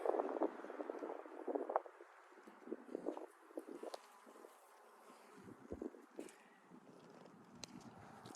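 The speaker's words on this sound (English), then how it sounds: "these plants are happy. They're buzzing with bees." Bees buzz faintly around healthy garden plants, with a soft, uneven hum that swells and fades as they pass, heard outdoors with light wind and no talk.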